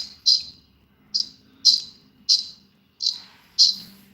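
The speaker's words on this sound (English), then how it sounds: "Philip, your background chirping is annoying" Birds chirp in short, sharp bursts, six distinct calls spaced irregularly over a few seconds, heard in the background with a low hum beneath and no speech.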